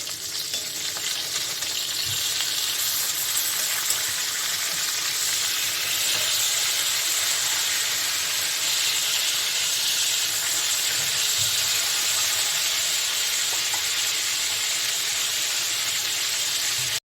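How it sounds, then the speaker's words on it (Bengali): Katla fish sizzles steadily in hot mustard oil in a pan, a loud continuous hiss and crackle with no talking, close and unbroken throughout. "ওই মাছটা আমি সর্ষার তেলে ভেজে নেব"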